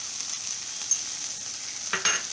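Cumin powder sizzles steadily in hot oil while a vegetable bhaji cooks, a constant bright hiss with a brief stirring scrape near the end.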